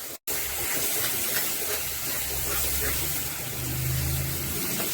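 A paste of spices with fried and ground onion, garlic and ginger sizzles in a pan for a cauliflower, mushroom and potato curry. It is a steady, close, hissing fry with no break.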